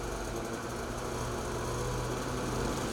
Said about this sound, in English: start the engine and apply a small amount of throttle until the track turns slowly, at least 5 complete revolutions